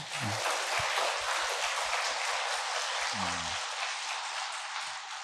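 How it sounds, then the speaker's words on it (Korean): Sustained applause from a church congregation at a Catholic Bible event in Korea, dense and steady for several seconds, with faint low tones murmuring underneath. "그분에게 박수 한번 쳐드릴까요?"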